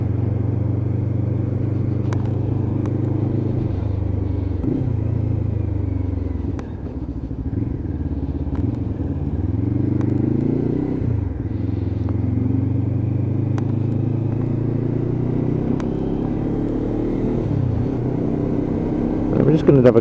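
Lexmoto LXR 380cc motorcycle riding and downshifting with rev-matched blips, a steady close engine drone with rising and falling revs, a rider speaking over it.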